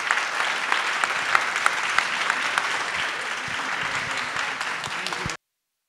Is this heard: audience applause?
yes